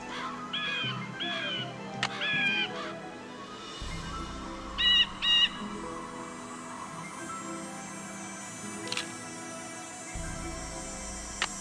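A few short bird calls ring out in the woods in separate bursts, some doubled, over a quiet outdoor background with faint rustling.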